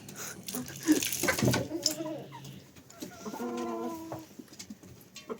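Chickens and a rooster pecking at pieces of fat give soft clucks and a short, tonal rooster call among scattered rustling, close by, with a person talking intermittently.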